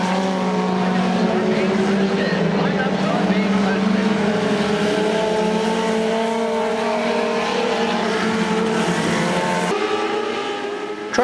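Wing 600 sprint race cars circle a speedway during warm-ups, a loud continuous engine roar with rising and falling pitch as several cars pass close by, steady throughout with no talk.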